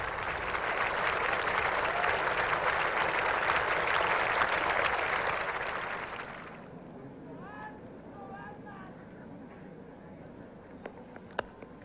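A large crowd at a 1977 England versus Australia cricket test applauds the Queen with steady, loud clapping that lasts several seconds, then fades into a quieter stadium murmur with faint distant calls.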